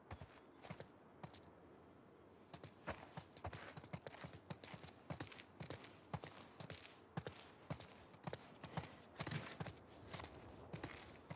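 Steady clip-clop of horse hooves walking at an even rhythm in the video game The Last of Us Part 2, close and continuous, with a light background hum and no voices.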